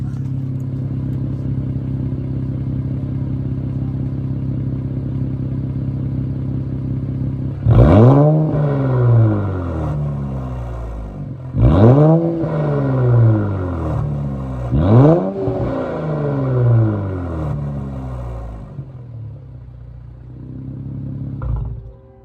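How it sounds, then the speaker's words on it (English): A car exhaust with the muffler and resonator deleted, first idling with a low steady burble, then revved in four sharp blips that rise and fall back, loud and close with no talk. "I got a muffler delete and a resonator delete on it."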